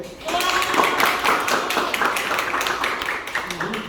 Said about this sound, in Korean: 우리 그날 같이 한다는 약속한다는 걸 박수 한번 해주세요